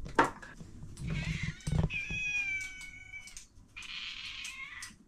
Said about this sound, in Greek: διώξα τα γατιά. Σου πάρουν το φαΐ.